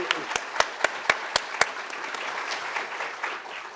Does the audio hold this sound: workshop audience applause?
yes